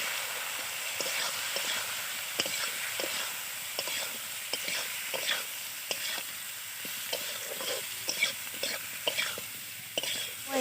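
Spices and rohu fish curry being stirred in a hot frying pan, a steady bright sizzle with repeated scraping and clacking strokes of the spoon throughout, close and alone without speech.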